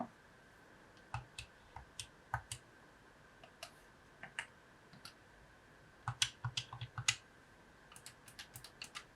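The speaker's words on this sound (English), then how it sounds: "you can hear that the official controller has a way better D-pad" Official Xbox controller D-pad pressed repeatedly, giving crisp, close clicks in irregular bursts, sparse at first and then a quicker cluster, all faint against a quiet background with no talking.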